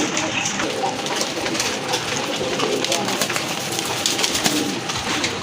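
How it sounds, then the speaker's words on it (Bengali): Pigeons coo steadily on a farm holding colourful, high-quality pigeons of many breeds all around, a dense, continuous flock murmur with scattered wingbeats, and someone talks over it. "বিভিন্ন কালারফুল কোয়ালিটিফুল কবুতরে ঘেরা চারপাশে, ডাইনে বামে সব দিকেই"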